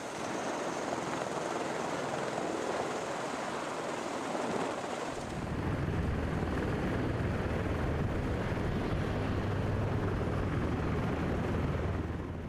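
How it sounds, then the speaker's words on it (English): A presidential helicopter, a VH-3D or VH-60N, gives a loud, continuous rotor and turbine roar that deepens into a heavier low rumble partway through, with no voices. "The U.S. president, along with other officials, travels on helicopters like the VH-3D and VH-60N"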